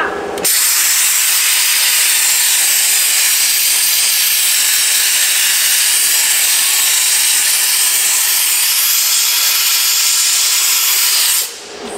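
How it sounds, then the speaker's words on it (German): A loud, steady high-pressure jet hisses continuously for several seconds, blasting the underbody of an Audi A6 to strip underbody coating and tar, then cuts off abruptly. "wir können jetzt so viel Druck machen, dass wir echt einen Salzstrahleffekt haben"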